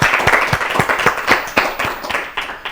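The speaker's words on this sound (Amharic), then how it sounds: "እስቲ አጨብጭቡላቸው፣ ሞራላቸው ደስ ይላል" An audience at a children's quiz competition claps for the student contestants in a short burst of steady applause, with distinct individual claps close by and in a quick rhythm.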